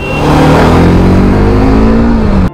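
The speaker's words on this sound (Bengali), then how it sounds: "আমার ব্ল্যাক পিসটা ধরে যখন রেভ করা হয় এসব ইনক্লিনেশনে, তার আওয়াজটা কানে মিউজিকের মতো বাজে।" A carbureted black Pulsar motorcycle engine revs hard while climbing a steep mountain incline. It sounds loud and close, a steady droning roar whose pitch climbs gradually, then cuts off abruptly near the end.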